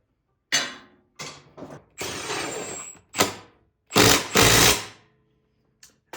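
Material being taken off a Toro lawn mower part with a power tool, in a series of short, loud bursts with brief pauses between them and a longer stretch of steady noise in the middle.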